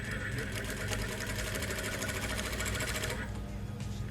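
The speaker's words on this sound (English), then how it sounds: "we're going to do a back tack. 1, 2, 3, and" A sewing machine stitches fabric with a back tack, running as a steady, close mechanical buzz with a rapid rattle that continues for about three seconds before easing off.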